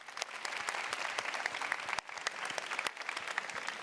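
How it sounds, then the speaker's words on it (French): Conference audience at a fireside chat applauding itself, a dense, even patter of many hands clapping continuously at moderate distance with no speech over it. "est-ce qu'on peut juste s'applaudir d'être là"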